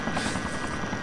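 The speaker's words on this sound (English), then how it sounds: "I hear the sound of a helicopter" Helicopter in the ArmA 2 video game, a steady close rotor thrum with a fast pulsing chop and a buzzing engine whine, loud and unbroken throughout.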